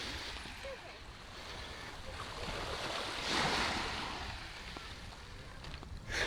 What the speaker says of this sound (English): This is Little Hickory Beach